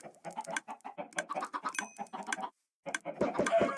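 Minecraft chickens clucking in a video game, a string of short rapid clucks close by, a brief silent gap, then more clucks layered with a soft pecking clatter.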